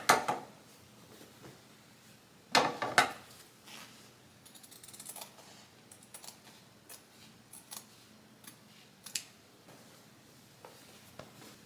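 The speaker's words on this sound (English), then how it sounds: "So I'm just gonna cut off the part that I know for sure that I'm cutting off." Scissors cutting fabric off a piece of clothing being altered, close quiet snips and crunching blade clicks, a louder burst near the start and scattered cuts throughout, with no talk.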